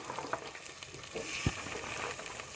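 Onions fry in a pan, browning, with a steady close hiss of sizzling oil and a few soft scraping stirs, no voices.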